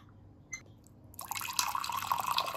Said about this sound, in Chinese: 用刚烧开的开水进行冲泡